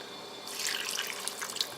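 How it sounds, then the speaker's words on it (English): Water runs into a crock pot filled with chopped frozen vegetables, a soft splashing trickle that starts partway through and continues quietly to the end. "I'm going to add some water."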